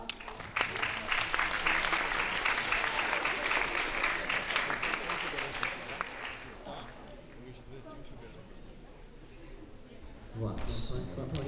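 Audience applause at a school event hosted by compères at a Polish high school, a dense sustained burst of clapping that fills most of the clip before thinning out, with a brief swell again near the end and voices mixed in.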